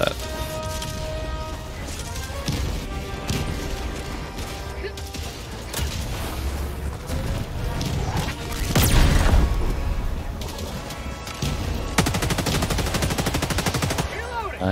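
Rapid automatic gunfire crackles in Helldivers 2, loud sustained bursts with booming impacts and mechanical clanks in a chaotic firefight, while players talk over the shooting.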